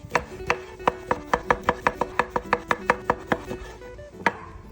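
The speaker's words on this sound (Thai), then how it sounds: "หั่นมะเขือเทศ" A knife cuts tomato on a board for a Thai spicy salad with lotus stems and fresh shrimp, giving about fifteen crisp, evenly spaced chops, close and clear, with no talking.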